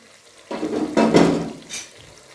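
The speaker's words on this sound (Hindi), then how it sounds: "अब मैं इनको छान लेती हूँ।" Boiled chicken being strained from a pot makes a short clatter of metal and wet sloshing, with two close bursts and a faint clink at the end.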